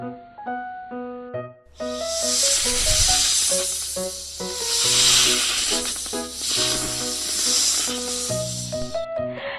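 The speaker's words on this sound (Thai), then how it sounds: "คำตอบก็คือ เสียงของงูนั่นเองค่ะ" A snake's hiss, sustained and broad, bursts in after a short musical intro and holds fairly loud over a light backing tune, offered as the answer in a children's animal-sound guessing game.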